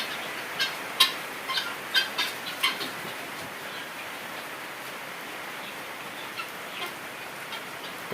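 Chickens on a farm during light rain give a handful of short clucks and calls in the first few seconds, then fall mostly quiet beneath a steady soft hiss of rainfall. No one speaks.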